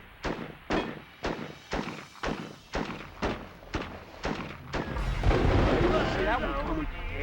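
Artillery fire in a PlayStation video game: a steady rhythm of about a dozen heavy booming shots, roughly two per second, then giving way to a dense rumbling barrage of explosions, with a faint voice mixed in.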